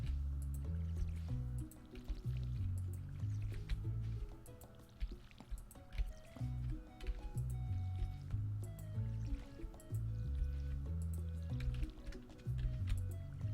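Crops being watered in the video game Stardew Valley: soft squishy splash and drip effects repeat in quick succession over gentle, looping background music.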